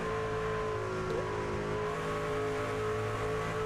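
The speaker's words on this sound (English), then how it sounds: "you can almost feel them just kind of just easing back onto that throttle now" Racing trucks in a playoff truck series hold a steady sustained engine drone with tonal whine, one slight pitch shift midway, at a moderate distance with no speech.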